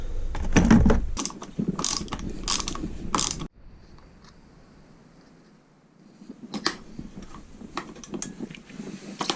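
A hand ratchet with a 10 mm socket clicks in quick bursts while lever hardware is fitted on a Yamaha WR250R motorcycle, pauses into near quiet, then resumes with more close, crisp ratcheting and handling clatter.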